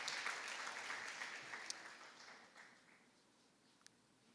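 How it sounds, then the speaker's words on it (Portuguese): A church congregation in Maringá claps in praise of God, dense broadband applause at first that thins and fades toward the end, with a few sharp isolated claps standing out. No talking. "Salva de palmas para a glória dele, porque ele merece a glória"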